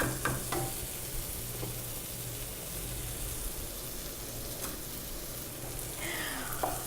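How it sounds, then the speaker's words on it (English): Vegetables simmer in curry sauce in a pan, giving a steady soft sizzle and bubbling that continues evenly throughout, with a few light clinks from stirring and no talking. "So we're going to give this 2 minutes to simmer."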